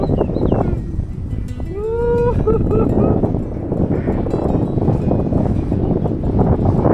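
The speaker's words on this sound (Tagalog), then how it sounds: "Sobrang lakas ng hangin dito." Strong wind buffeting the microphone in a steady roar throughout, with a brief animal-like call rising over it early on, during a motorcycle trip through mountainous North Luzon, Philippines.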